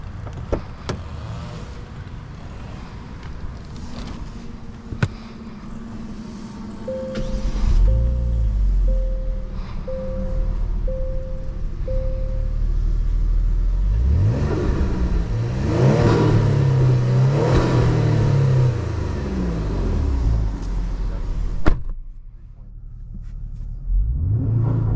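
A tuned 450 hp 2023 Genesis G70 pulls hard on a test drive, its engine note climbing through rising revs with a deep, loud exhaust roar, easing off near the end.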